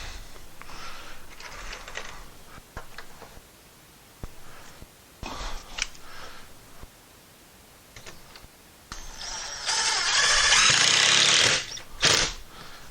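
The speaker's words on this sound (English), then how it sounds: "So I'll screw and countersink that in." A power drill drives a countersunk screw into a wall stud while a pegboard tool shelf is mounted: scattered short clicks and brief bursts, then a loud, steady two-second whir near the end, followed by a final short spurt.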